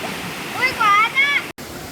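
Steady roar of a waterfall at a swimming spot, continuous broadband rushing water with voices and a brief whistle-like call over it, cut by a short dropout near the end.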